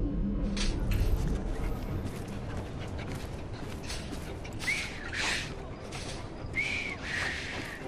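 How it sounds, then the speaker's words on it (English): In Assassin's Creed Syndicate, a character whistles a few short, rising tones over a busy, noisy game background of street ambience. "Oh, yes. I've just learned to whistle."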